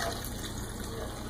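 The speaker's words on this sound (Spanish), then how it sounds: "vamos a verter un poquito de agua" Water poured into a blender jar holding garlic and chicken bouillon cubes for rice with corn, a brief, steady gushing pour, close and moderately quiet, with no talking.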